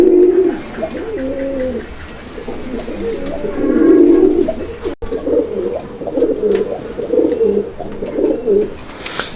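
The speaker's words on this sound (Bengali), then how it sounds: "এই নোটটা আবার মাদির চারিদিকে ঘুরিয়ে ঘুরিয়ে ডাকে" Male pigeon cooing in repeated rolling phrases while circling a female, fairly close and steady, with a brief gap midway.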